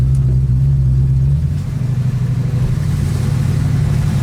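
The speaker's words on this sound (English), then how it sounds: "I just love the sound of that cam, that lumpy idle." A big V8 engine in a 1968 Ford Mustang coupe idles with a loping, uneven cam rumble, a heavier burble easing into a choppy, rhythmic lope; no talking.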